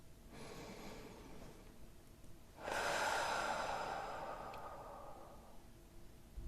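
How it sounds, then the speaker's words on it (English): A long, slow breath out, soft at first then swelling into a fuller airy rush that fades gradually over several seconds, close and alone with no talking. "I just exhale."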